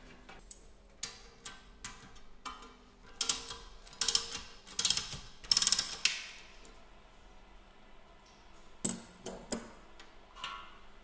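A hand knockout punch is tightened to cut 22.5 mm holes in a control desk panel, giving ratcheting clicks and a cluster of sharp, close creaking bursts, then scattered clicks, with no talk.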